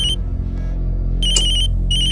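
A mobile phone ringtone rings in two bursts of bright repeated tones over a steady low background hum, loud and close, with no talking.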